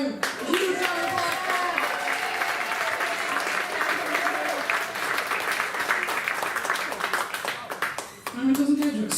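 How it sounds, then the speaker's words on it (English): A coffee house audience gives a sustained round of applause, dense steady clapping filling the room for several seconds with some voices mixed in, fading slightly before a brief voice at the end. "Huge round of applause."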